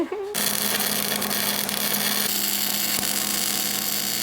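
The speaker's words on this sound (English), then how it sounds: "Let's weld it then" Welding on a go-kart frame in a Harbor Freight parking lot gives a continuous loud crackling hiss that starts abruptly and holds steady up close for several seconds.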